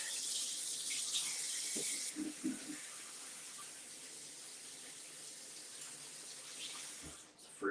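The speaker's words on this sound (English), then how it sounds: "let me wash my hands" Hands washed under a running kitchen tap, a steady bright gush of water that cuts off partway through, leaving quiet handling noises and a brief clunk near the end.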